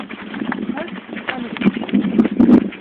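Donkey hooves clip-clop quickly on stone as the animal runs in Petra, Jordan, a steady irregular patter close by, with people talking over it.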